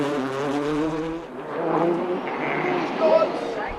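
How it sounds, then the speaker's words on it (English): A rally car at the 2006 Donegal International Rally in Ireland sweeping through a corner, engine loud and near, pitch dropping then rising with tyre noise as it passes. "Derek was so nearly caught out at Kevin Lynch's corner."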